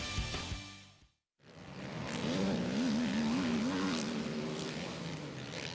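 ATV engines at a motocross race at Sunset Ridge Motocross Park in Walnut, Illinois, during the 2021 national championship fall briefly silent, then roar back loudly, their revving pitch wavering up and down as they run on.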